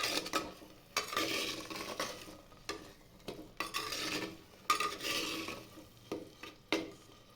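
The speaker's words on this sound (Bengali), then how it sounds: "মশলাটা দিয়ে কষিয়ে নেবো।" Spiced masala for Bengali dhaniya chicken curry stirred and fried in oil in a pan, with repeated scraping strokes of a spoon against the metal over a soft steady sizzle, close and moderately loud, no talking.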